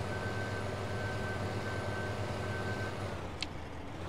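A tractor engine in a farming video game runs at a steady, loud idle-to-cruise drone, continuous and even throughout with no pauses or voices.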